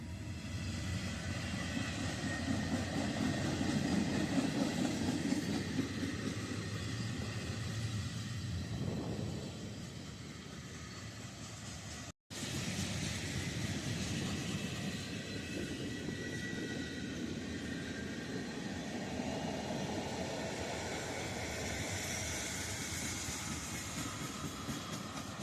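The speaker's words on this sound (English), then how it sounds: "First train we got, this is on the CSX line" A long CSX freight train made up mostly of boxcars with some mixed freight rolls past at close range, a steady broad rumble and clatter holding for the full length with a brief dropout midway and no talk.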